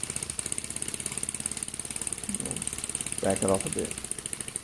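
A small homemade steam engine runs with no flywheel or base, chuffing in a steady fast rhythm throughout, close and continuous, while someone speaks briefly over it.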